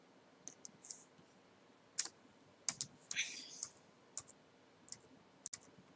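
Scattered clicks and taps from a computer keyboard, irregular and fairly close, with a few louder clusters of keystrokes, during a casual livestream.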